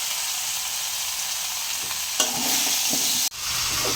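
Mango chutney frying in a pan gives a steady, bright sizzle throughout, with a couple of sharp scrapes as it is stirred and flipped, and no talking.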